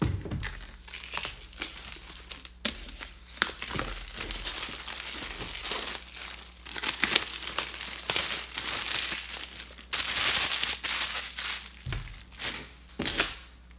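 Plastic wrapping is torn and pulled off AirPods Max packaging, close crinkling, rustling and ripping in irregular bursts for several seconds, with no talking over it.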